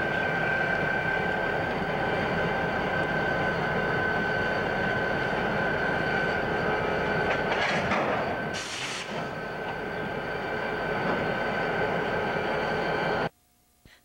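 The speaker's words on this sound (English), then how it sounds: "Now let's watch as this railroad worker joins an engine with a boxcar to" A railroad engine drones loudly and steadily, then a sharp metallic clank rings out as it couples with a boxcar; the noise cuts off abruptly at the end.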